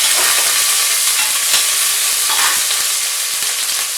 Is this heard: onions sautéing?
yes